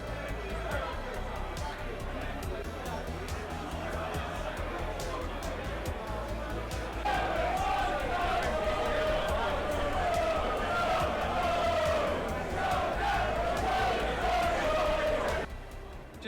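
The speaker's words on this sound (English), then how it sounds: "They just started singing with an hour and a half to go till kick-off." Arsenal football supporters chanting together outside the Highbury Barn pub ahead of a derby against Spurs, a dense crowd's sustained singing and chatter, growing louder and more unified midway before tailing off near the end.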